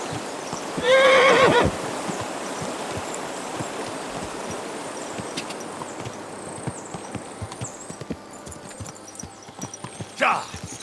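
A horse in Kingdom Come Deliverance 2 lets out a sharp, loud neigh near the start, followed by a long run of steady hoof clip-clops over a murmuring stream-like ambience, with a brief louder burst near the end.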